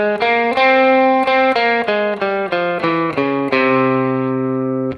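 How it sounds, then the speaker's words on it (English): A single guitar plays the Phrygian dominant scale, about nine distinct notes picked one by one in an even rhythm, each ringing clearly before the last note sustains and fades. "So the Phrygian dominant scale sounds like this"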